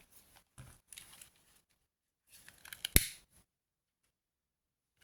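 Scissors cutting ribbon at a scrapbooking table: a few quiet snips early on, then a cluster of closer cuts ending in one sharp, crisp snap, followed by silence.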